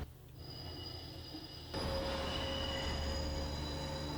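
In the Death Note anime, a moving train's wheels squeal in a sustained high metallic screech over a low rumble, jumping louder partway through and holding steady.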